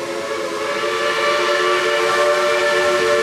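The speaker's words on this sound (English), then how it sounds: "What you hear there is the train, obviously. It's a very loud train." A loud, steady theme park train whistle or horn sounds continuously with strong harmonic tones, close by and sustained for several seconds.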